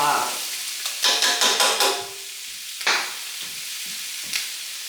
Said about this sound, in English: We want to brown the chicken before we add the two sauces